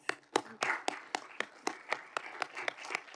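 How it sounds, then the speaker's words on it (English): A small audience at an indigenous biodiversity forum assembly claps in a sparse, steady rhythm of about a dozen distinct claps, moderately close and fairly quiet, with no talking. "give a big applause for all the panelists"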